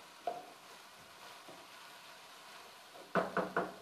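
Onions browning in a pan for masala bhindi give a faint, steady sizzle, broken by a few soft knocks and a burst of three louder stirring scrapes near the end.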